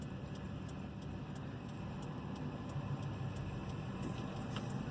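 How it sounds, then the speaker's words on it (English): A car passes on a village street, its steady mid-pitched engine and tyre roar staying fairly constant in the background for several seconds with no talk over it. "here comes an interesting car."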